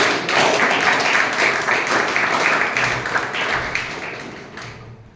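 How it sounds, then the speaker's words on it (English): Audience applause at a Toastmasters club meeting, a steady round of clapping from a room of people that holds for several seconds and then thins out near the end, with a few thuds mixed in. "So can we have a round of applause for that?"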